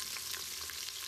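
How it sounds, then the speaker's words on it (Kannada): Small coconut pieces frying in hot tempering oil, a soft continuous sizzle with light crackles, faint and close. "ಅದು ಸ್ವಲ್ಪ ಕೆಂಪು ಫ್ರೈ ಆಗಬೇಕು"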